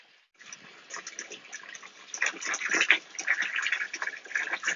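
Water drains through an aquaponic bell siphon made from 50 mm pipe with an end cap, starting as a soft trickle and swelling into a steady gurgling gush at close range.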